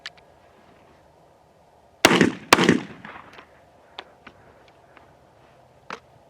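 Two loud sharp shots from a Cimarron 1878 double barrel shotgun firing Winchester shells through a hot barrel, close together and near, followed by faint clicks and light handling taps.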